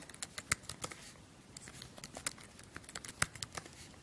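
A password typed on a Mac keyboard: quiet, irregular key clicks spaced unevenly and tapped out at close range, with no voices.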